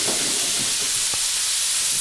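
Minced meat frying in a pan, browning as it is turned: a steady, even sizzling hiss for a couple of seconds with one faint soft knock, no voices.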